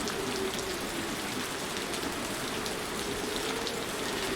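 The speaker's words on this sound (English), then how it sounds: "Now let's hide from the rain in the cab." Steady rain pours in the Trainz Railroad Simulator 2019 game on the Haddencott Tramway, a dense, even hiss of drops on surfaces with no breaks and no voices.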